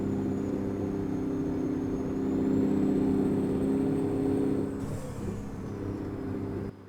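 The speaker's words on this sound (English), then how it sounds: "I love the sound of this truck, it's nice." A heavy road-train truck engine in American Truck Simulator, hauling plows on a T404 rig, gives a steady low diesel drone with a faint high whine that swells briefly and then eases back, continuous and close with no talk.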